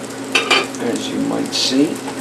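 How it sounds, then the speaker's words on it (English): Softened onions sauté in a pan, a bright crackling sizzle heard close up beneath a short stretch of speech, with a couple of light utensil taps. "it's been sauteing for a little while here, and the onions are nicely softening up"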